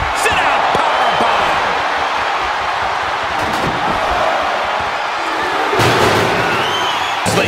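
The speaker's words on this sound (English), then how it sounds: "powerbomb! Like compounding the damage now." A wrestling powerbomb slam in the WWE 2K24 video game lands as a heavy thud amid steady arena crowd noise, with a louder impact burst near the end and ongoing commentary.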